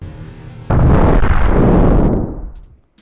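A sudden loud explosion in the video game Solar Smash bursts out, roars for over a second, then rumbles away into quiet.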